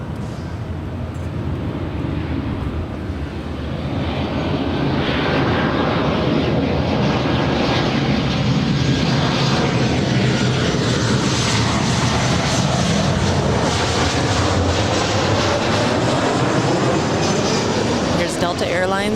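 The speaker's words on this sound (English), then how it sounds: "Delta Airlines Flight 1013 from Salt Lake City. It's a 737-900ER." A Delta Airlines Boeing 737-900ER arriving at LAX from Salt Lake City, its jet engines building from a moderate rumble into a loud, sustained close roar with a sweeping whine, with a voice speaking briefly underneath.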